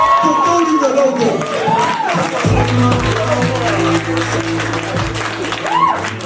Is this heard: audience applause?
yes